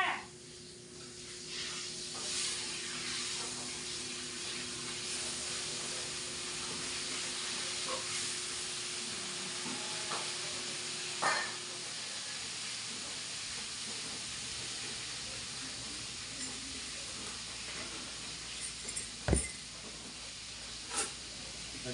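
Steady broadband sizzling and hiss, like food frying in a pan, continuing throughout with a few faint clicks and knocks.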